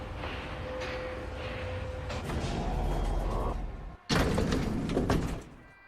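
A sliding elevator door and the elevator ride in the video game LA Noire: a steady hum with a shift partway through, then a loud burst as the door opens near the end, with no talking.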